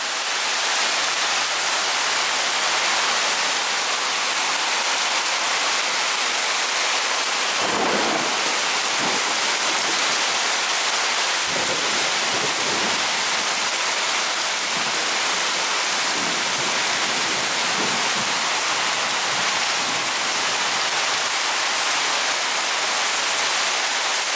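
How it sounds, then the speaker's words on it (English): Heavy rain pours down outside during a flash flood, a steady loud wash of water with lots of runoff streaming nearby, continuous and dense throughout with no thunder. "Lots of water running."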